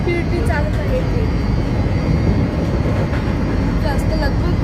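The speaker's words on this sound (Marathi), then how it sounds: "स्पीड बघा AC लोकलची" A Mumbai AC local train running at high speed, with a goods train ahead; a dense, steady rumble and rush of wheels and wind fills the whole stretch, with a voice briefly audible over it.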